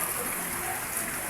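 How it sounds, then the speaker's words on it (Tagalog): Steady rain falling outdoors on a rainy afternoon, a dense even hiss of drops with no break, fairly faint and heard alone. "Ang gapong ng ulan pa."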